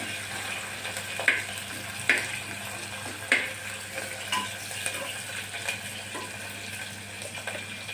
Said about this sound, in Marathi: आता आपण कांदा परतून घेत आहोत अगदी कांदा चॉकलेटी कलर होजेपर्यंत परतून घेणे